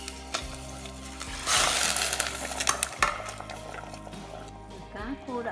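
Fish slid into a pot of boiling water for caramelized tuna and stirred, giving a bubbling, sizzling wash with splashes and utensil knocks, while someone talks over it.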